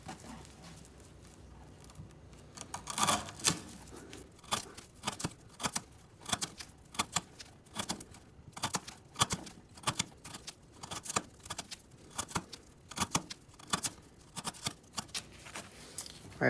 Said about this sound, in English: we're gonna attempt to cut this half inch twisted sisal rope